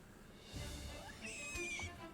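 A rat creature in For the King II lets out a short, high squealing cry that sounds like a pig's, quiet and lasting about a second and a half over faint background sound.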